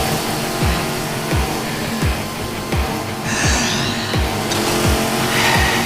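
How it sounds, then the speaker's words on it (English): A loud, steady mechanical engine whir from an action scene in the anime Chainsaw Man, with repeated swooping low pulses and high grinding bursts layered over a dense background. "Oh yeah, you can hear the engine whirring."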